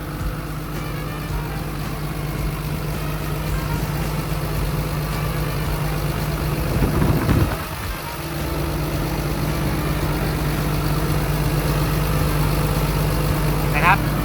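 Diesel engine of a 20-ton Caterpillar 320D excavator idling, a steady low drone heard close up throughout, with a brief louder swell midway.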